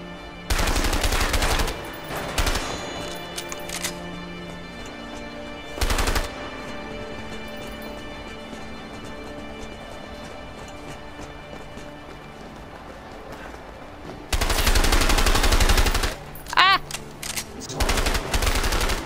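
Bursts of gunfire in the video game A Way Out, loud broadband blasts in short clusters near the start, around six seconds and again toward the end, with quieter game ambience between.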